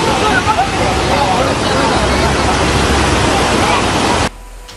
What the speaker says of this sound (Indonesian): Mobil SUV ini nekat menerobos banjir di Kecamatan Sumber, Kabupaten Rembang, Jawa Tengah.